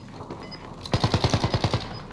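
Automatic gunfire in Call of Duty Warzone, a sudden loud burst of about ten rapid, evenly spaced shots breaking out after a quiet start.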